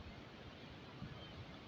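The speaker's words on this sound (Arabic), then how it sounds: "نخليكم شويه مع البحر" Sea waves wash onto the shore beside seaside rental apartments, a steady low rumbling surge with soft wind noise, fairly faint and continuous with no voices.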